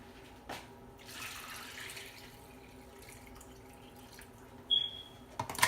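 Water pours into a crockpot of pinto beans, starting as a short splash and settling into a quiet, steady stream. A brief clink and rattle are heard near the end.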